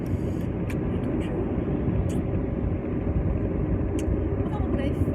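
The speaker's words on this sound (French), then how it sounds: "Parce que j'ai une petite voiture." A small car is driven along, its engine and road noise forming a steady low rumble inside the cabin, with a few brief ticks and clicks on top and a person talking through it.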